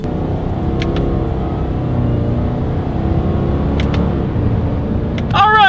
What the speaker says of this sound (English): let's do a quick little acceleration and let's see how quickly we can get the new 2019 Forester here up to speed